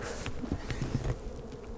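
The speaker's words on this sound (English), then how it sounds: "But we got bees flying," Honey bees fly around winter beehives, with buzzing passes rising and fading close by as several insects move past.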